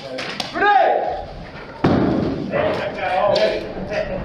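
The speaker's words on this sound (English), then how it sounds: "Grenade!" An airsoft grenade bursts with a sharp, loud thump in a stairwell during a milsim game, cutting into excited shouting from nearby players who keep talking afterward.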